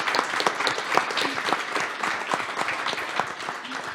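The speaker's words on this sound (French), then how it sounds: "Je pense qu'on peut vous applaudir bien fort." An audience at a panel discussion applauds the panelists with steady, dense clapping that holds evenly throughout, fairly close and without voices.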